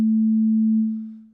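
A single sustained synth tone from Ableton's Wavetable synthesizer using its FM frequency-modulation waveform effect, holding steady for about a second before fading out, played alone.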